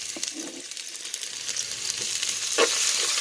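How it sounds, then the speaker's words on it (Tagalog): Ginger and aromatics sauté in a pan at an outdoor backyard cooking setup, a soft sizzle with light stirring scrapes, faint and close, growing a little stronger toward the end. "Tapos magigisa na tayo ng mga rekado."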